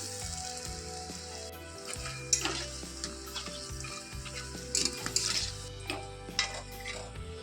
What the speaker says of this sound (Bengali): এখন আমি সেই তেলের মধ্যেই ছোট ছোট করে ব্যাটারটা দিয়ে বড়া করে